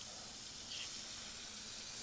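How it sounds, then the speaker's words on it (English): Water poured onto a droopy garden plant, a steady soft hissing splash that runs evenly and fairly close throughout, with no talk. "So I'm just going to give it some water right now."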